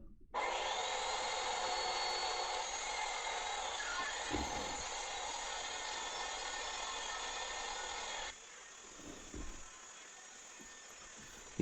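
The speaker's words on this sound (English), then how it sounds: "I brought out the table saw." A table saw runs steadily for about eight seconds while ripping 3-inch plywood strips, a loud even whine with a brief dip mid-cut, then stops abruptly, leaving a quieter room with a couple of soft knocks.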